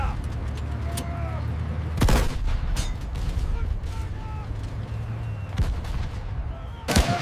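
World War II battle gunfire and artillery at the Battle of Kursk, 1943, after a German fire command: heavy booms at irregular intervals over a constant low rumble of distant firing, with voices heard amid the noise.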